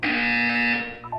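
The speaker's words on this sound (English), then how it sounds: "When you hear the buzzer, look up at the ceiling." A buzzer in the Portal: Revolution video game gives a loud, harsh electronic buzz that holds steady for about a second, then fades into a couple of brief higher chirps.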